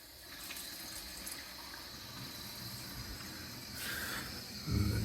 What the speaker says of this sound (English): I'm going to slowly turn the water on.